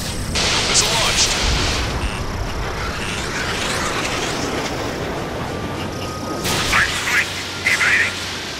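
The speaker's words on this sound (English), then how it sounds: "Missile launched." A missile launch and explosions in the Ace Combat 7 video game: a loud roaring rush with crackling blasts, booming bursts near the start and end, and voices talking over it.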